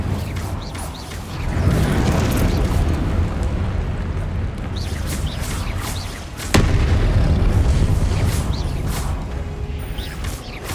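Spell blasts from Confringo and Incendio in the video game Hogwarts Legacy boom out as heavy, sustained explosive roars, with a second sharp burst hitting midway and rumbling on afterward, with no talking.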